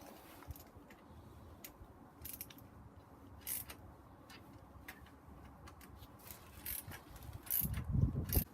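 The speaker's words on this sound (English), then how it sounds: "you go with the ratchet, but you go easy with this, as you want to make sure you do it" Ratchet tightening turbo bolts on a BMW N54 engine in a 135i during a rebuild, with short metallic clicks in quick bursts, close up, plus some clunks of handling near the end.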